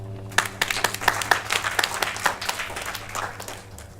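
Audience applause at a ribbon-cutting ceremony for Barnes-funded affordable houses in North Nashville, many hands clapping in a dense, steady patter over a low hum, fading slightly toward the end.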